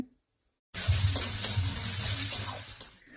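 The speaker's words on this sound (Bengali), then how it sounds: "এখন সমস্ত কিছুকে আবার একটু নেড়ে চেড়ে ভেজে নিতে হবে" Garlic, green chilies and grated ginger hit a hot pan and are stir-fried, bursting into a loud, dense sizzle after a moment of silence, with faint scraping from the stirring before the hiss eases slightly at the end.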